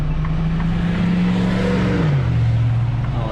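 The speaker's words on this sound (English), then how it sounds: "Oh, and of course, all we could hear was the pickup truck." A pickup truck drives past close by, its loud engine drone holding steady and then dropping in pitch as it goes by, with no talk over it.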